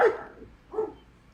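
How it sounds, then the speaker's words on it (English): Dogs barking at night at a strange cluster of blinking lights in the sky, two sharp barks about a second apart, the second softer and heard from some distance. "The dogs are barking at these things, man."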